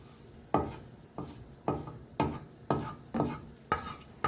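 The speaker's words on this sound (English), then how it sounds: "in my frying pan, I added just a small amount of extra virgin olive oil and some grated ginger" Repeated stirring scrapes in a frying pan over a soft sizzle of grated ginger frying in extra virgin olive oil, about six strokes in a steady rhythm, close and moderately loud.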